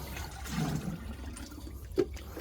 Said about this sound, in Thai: ผมไปตักน้ำนะเพื่อน